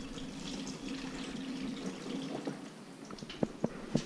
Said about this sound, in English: And I'll drain a little bit of this out. A lot of it out, actually.